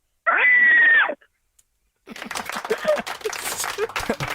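A voice lets out a single loud, high, piercing screech imitating a pterodactyl, followed after a pause by noisy laughter and chatter in a studio show.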